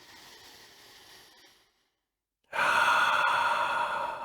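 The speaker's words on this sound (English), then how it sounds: "taking some long, deep breaths in through your nose" A long, deep breath drawn in through the nose, a soft airy hiss that fades, then a brief silence, then a louder, stronger inhale. The breathing is close and there is no talking.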